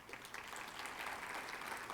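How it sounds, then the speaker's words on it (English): Steady applause from a conference keynote audience, a dense wash of many hands clapping continuously at moderate loudness throughout. "so please give her a round of applause."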